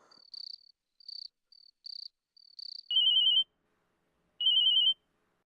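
An electronic phone ringtone: a few short chirping beeps, then two longer ringing tones separated by a pause, clear and alone.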